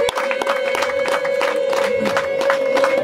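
A church congregation at a house-blessing gathering erupts in clapping and high, sustained ululation, a bright wavering trill held over rhythmic claps and crowd noise, loud and close throughout.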